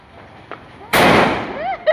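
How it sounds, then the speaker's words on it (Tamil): A single loud, close Diwali firecracker bang that bursts suddenly after a quiet stretch and decays through a crackling tail, with faint fizzing and a brief voice at the edges. "சாம வெடி அடிச்சு."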